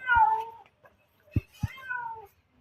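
A cat that is after a rat meows twice, drawn-out and wavering, with a couple of short thumps between the calls, moderately close in an otherwise quiet space.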